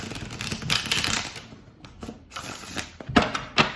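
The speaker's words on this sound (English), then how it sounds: "Just do a quick shuffle." Mermaid Tarot cards get a quick shuffle close up, giving bursts of crisp riffling and flapping paper clatter in uneven clusters with short pauses between them.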